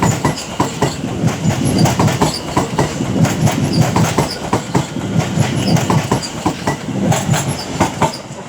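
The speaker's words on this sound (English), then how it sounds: "This is the 1557 London Overground service to Wilston Junction departing." A London Overground train pulls out of London Euston on the West Coast Main Line, wheels clattering in a loud, regular clickety-clack rhythm over rail joints with brief squeals, close by and without voices.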